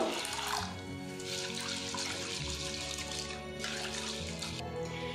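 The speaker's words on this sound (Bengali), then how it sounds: "এবারে এর মধ্যে জল দিয়ে 2 থেকে 3 বার ভালো করে ধুয়ে নেব।" Sago pearls are washed with water in a bowl, producing a steady rush and slosh of water close by for the whole stretch, with no talking.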